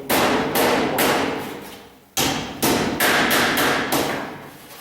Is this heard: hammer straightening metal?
yes